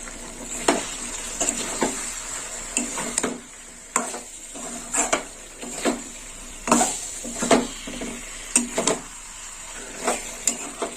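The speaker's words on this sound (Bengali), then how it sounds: "আর নারকল বাটাটা দিয়ে আর একটু নেড়ে চেড়ে নেবো" Pointed gourd curry with coconut paste stirred in a pan, the spatula scraping in an uneven rhythm of about a dozen strokes over a steady, close sizzle.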